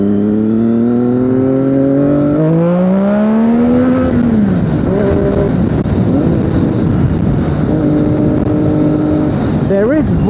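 A Triumph Daytona 675 sport bike is ridden hard, its engine note climbing through the gears in steady revving sweeps with brief drops at each shift, loud and close over wind rush.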